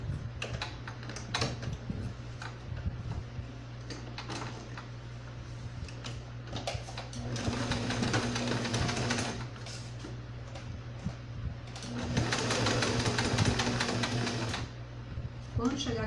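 A sewing machine stitching slowly around a fabric doll's neck curve runs in two steady whirring bursts of several seconds each, with someone talking throughout.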